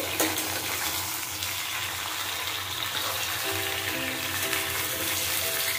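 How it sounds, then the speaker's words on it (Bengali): Ridge gourd pieces stir-fry in oil, producing a steady, close, moderately quiet sizzling hiss with a soft, watery texture that holds evenly throughout and has no speech. "ঝিঙেগুলো এইভাবে আমি তেলের সাথে ভালো করে মিশিয়ে দেব বা কষিয়ে দেব"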